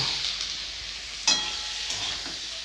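Fried cauliflower goes into a cooked tomato masala and sizzles with a steady hiss. A single sharp clatter cuts in partway through, and no voices are heard.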